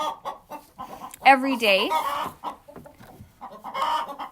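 Hens cluck and squawk inside a straw-bedded farm chicken house, one bird letting out a loud drawn-out call, while a person talks nearby over the birds.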